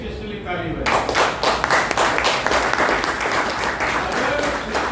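An audience at a theatre performance bursts into applause after a brief quiet start, and the dense, close clapping carries on steadily to the end.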